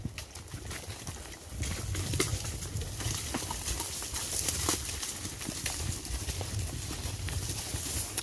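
A dairy cow wades into a river, its hooves splashing and clopping in irregular steps through the water, with soft outdoor ambience and occasional birds nearby.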